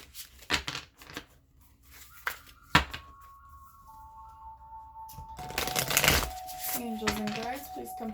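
Light Seers tarot cards shuffled and handled up close in irregular flicks and taps, followed by a denser run of shuffling, with faint tonal chiming in the background.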